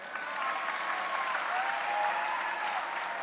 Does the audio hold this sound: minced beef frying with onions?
no